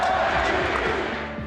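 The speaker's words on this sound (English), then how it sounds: "The crowd chanting" A baseball stadium crowd chants for Seattle Mariners catcher Cal Raleigh, a loud rhythmic mass of voices repeating a short chant in steady pulses, filling the whole moment without a break.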